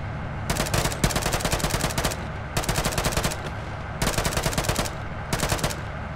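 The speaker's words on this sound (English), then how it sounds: "Machine gun into trees." A machine gun in Arma 3 fires into a treeline in four long, loud bursts of rapid, evenly spaced shots, each broken by short pauses, close and dominant with no talk.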